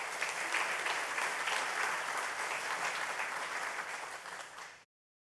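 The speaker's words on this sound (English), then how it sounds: "please give them a round of applause" Audience at a sports hall of fame banquet breaks into dense, sustained applause from many hands, steady and full for several seconds before cutting off abruptly into silence.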